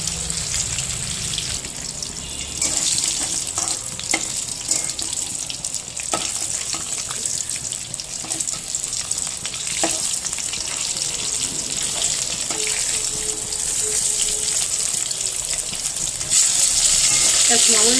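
Fish frying in a pan until very crisp, a steady close sizzle running throughout with occasional clinks and stirring, plus a faint trickle of water near the end.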